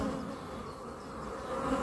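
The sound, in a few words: honey bees buzzing around an open beehive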